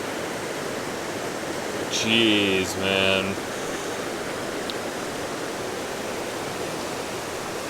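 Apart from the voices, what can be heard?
mountain stream water rushing over rocks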